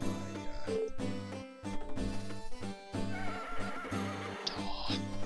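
Horse in the farming game Harvest Moon DS whinnies clearly over cheerful looping background music, a single bright neigh standing out near the end of the short stretch.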